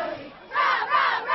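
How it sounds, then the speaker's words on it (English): Crowd roaring at a football game in Albuquerque's Westside Stadium, a distant swelling roar rising in two surges over a quieter murmur, with no clear talk. "bringing out the unmistakable roar of the crowd here at Albuquerque Public Schools' new Westside"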